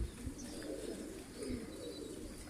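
Several pigeons of a bred migratory-stock line coo in a rooftop loft, a soft low continuous burble with a couple of stronger swells, no speech over it.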